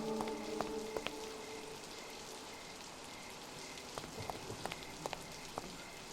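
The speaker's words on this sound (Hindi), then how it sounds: "एकदम घमासान बारिश हो रहा है। ये बारिश रुकने का नाम ही नहीं ले रही है" Heavy rain pours down in a constant, even hiss with scattered drop ticks, and faint tones sound briefly at the start.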